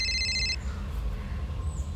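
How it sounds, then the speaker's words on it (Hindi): Telephone ringing in an office during a Hindi police crime drama, a short electronic trilling ring in the first half second, then fading into quiet room tone. "सर, प्रियंका का फोन"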